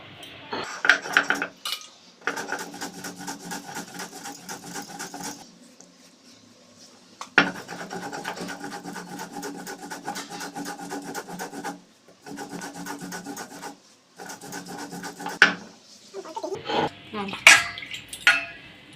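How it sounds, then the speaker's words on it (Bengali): Mustard seeds and a spoonful of cumin crushed together on a grinding stone for a Bengali bhola fish curry, making long rhythmic rasping strokes in several bursts with short pauses, close and fairly loud. "ভোলা মাছের ঝাল বানানোর জন্য সর্ষে আর জিরেটা বেটে নেব"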